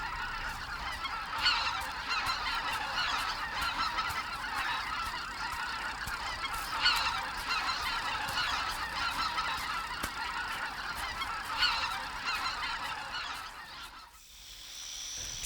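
Flocks of wintering migratory geese call across rice fields in late autumn, a dense continuous chorus of honks at moderate distance, steady throughout with no voices.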